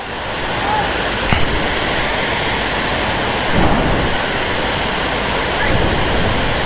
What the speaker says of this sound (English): So this is the waterfalls.